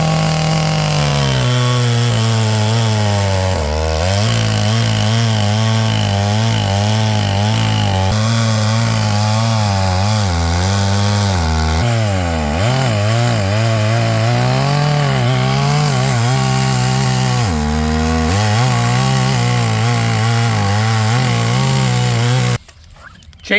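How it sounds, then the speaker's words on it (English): A Stihl 044 chainsaw fitted with an UPFOREST 20-inch bar and chain saws through wood outdoors, its loud engine droning steadily for over twenty seconds, pitch dipping and rising as it bogs into the cut, then cutting off abruptly at the end. "Chain held up well. I don't think I need to tighten it before I do any more sawing."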